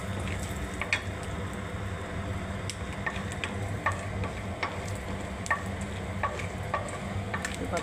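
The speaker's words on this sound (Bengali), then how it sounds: "এবার আমি বাদামগুলো ভেজে নিচ্ছি বন্ধুরা" Peanuts fry in hot oil for fried rice, a close steady sizzle with scattered clicks of stirring throughout.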